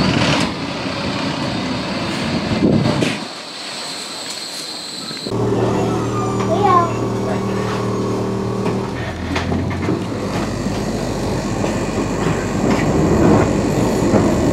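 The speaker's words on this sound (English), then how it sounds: "with the new, new tram, so it's fantastic that we've got one" A new tram in Blackpool rumbling along rails nearby, steady low mechanical hum with a brief quiet gap, then rising motor whine and rolling noise.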